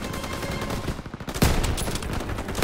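Rapid gunfire in Call of Duty WW2, a steady stream of close, loud shots with a heavier burst partway through.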